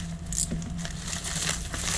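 A package of Kevlar thread is torn open, giving a short stretch of close, continuous plastic crinkling and rustling over a low background hum.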